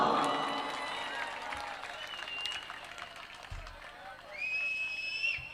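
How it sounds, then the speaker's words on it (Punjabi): An audience at a live stage mela applauds loudly in honour of Bapu, a sustained wash of clapping with crowd noise and some voices mixed in throughout. "ਤਾੜੀਆਂ ਜ਼ੋਰਦਾਰ ਮਾਰ ਦਿਓ"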